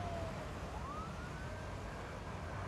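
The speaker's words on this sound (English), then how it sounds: "Oh, that's a fire drone." A faint wailing siren sweeps up and down over dense background noise, from a fire drone in the city-building game SimCity 5.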